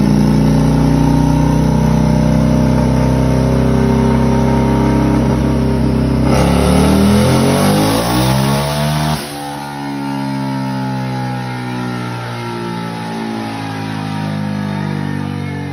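A turbocharged Harley-Davidson V-Rod motorcycle engine roars loud and close at full boost, its pitch sweeping up then dropping sharply around the middle before settling into a sustained high rev.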